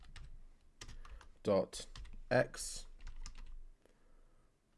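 Typing on a computer keyboard while installing software on NetBSD, with a few scattered key taps and two louder keystrokes mixed under a man's quiet speech.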